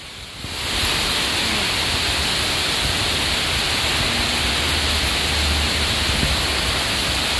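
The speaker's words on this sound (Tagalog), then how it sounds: "Ang lakas ng ulan!" Heavy rain pours down in a steady, loud wash that swells in within the first second and then holds unbroken, with no voices over it.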